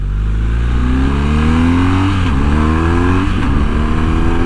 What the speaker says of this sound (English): A little pull on the highway.